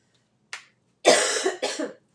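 A short cough, then a longer, harsher burst of two coughs close to the mic, with no talking.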